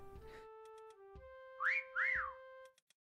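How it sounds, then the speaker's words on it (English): Several whistled tones in a video game, a long steady note followed by two bright rising-and-falling swoops, fairly faint with short gaps and no talk. "People whistling, that's fine."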